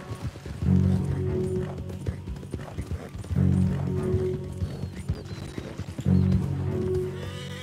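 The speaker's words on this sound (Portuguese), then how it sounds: "Tô vendo um cavalo aí atrás ali" Horse hooves clip-clopping in Red Dead Redemption 2 with a short whinny, in three rhythmic bursts of trotting that rise and fall at moderate distance, with ambient game sound between them.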